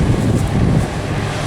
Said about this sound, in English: It's so dry, so blooming windy.